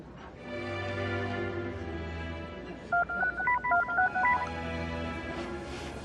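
Touch-tone telephone dialing: a quick run of about eight clear DTMF beeps, close and distinct, rising over a steady low background hum after a few seconds of quiet room tone.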